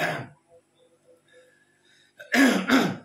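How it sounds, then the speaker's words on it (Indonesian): Two sharp, close coughs in quick succession near the end, after a brief vocal sound and a stretch of near silence. "Ya wah, batuk."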